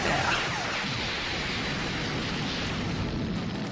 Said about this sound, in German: KO, der Scouter voll explodiert